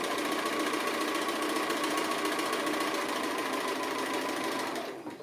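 A sewing machine runs fast and continuously, stitching an appliqué design. The whirring hum is close and steady, with no talk over it, and it slows and stops in the final half second.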